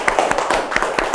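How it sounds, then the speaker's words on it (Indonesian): A classroom group claps hands together for a student team after their presentation, a steady patter of many overlapping claps running throughout at close range. "Beri tepuk tangan ke kelompok melati."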